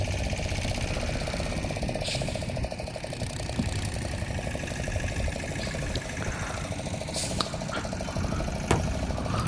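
A fishing boat's engine runs out at sea, a steady droning mid-pitched rumble with a faint rhythmic knock, close and continuous, with a few brief clicks and thumps over it.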